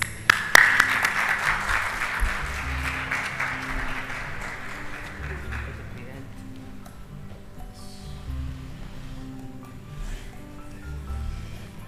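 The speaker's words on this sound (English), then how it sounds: "please welcome CA Sumit, our Executive Committee member, with a thunderous applause." Audience applause at a professional conference swells at the start with sharp claps, then thins and fades over several seconds to a sparse patter and quiet room noise.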